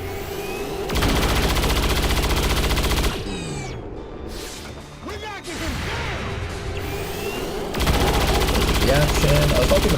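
Rapid automatic gunfire from soldiers shooting in XCOM 2, loud sustained bursts at the start and end with a quieter stretch of impacts and mechanical clatter between them, close and dominant.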